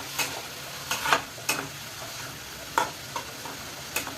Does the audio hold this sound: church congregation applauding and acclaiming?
no